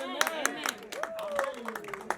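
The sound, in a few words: clapping at a celebration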